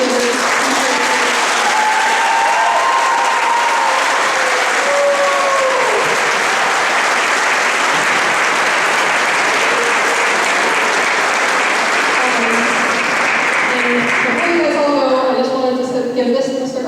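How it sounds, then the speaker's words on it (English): An audience at a high school spring choir concert applauds the choir director, sustained loud clapping from a large crowd with voices and cheers mixed in, tapering off near the end as talk resumes. "can we just get a round of applause for him and all the leaders?"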